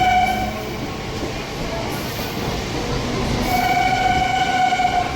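A local train from Durgapur station rumbles steadily along the tracks with a loud, continuous roar, and a long horn-like tone sounds near the start and end.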